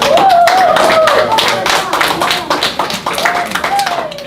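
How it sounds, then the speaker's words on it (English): An audience claps after a motivational talk, a brisk burst of hand claps close by that tapers off, with voices talking and calling out over it. "Y'all got a clap for that."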